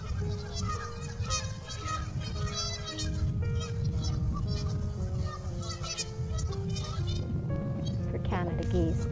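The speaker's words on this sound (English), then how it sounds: "Canada geese can be territorial as well, so there's a lot of watching each other and the occasional posturing and challenging" Canada geese honking at a nature sanctuary, repeated harsh calls overlapping at moderate distance amid a steady flock background, with a narrating voice running underneath throughout.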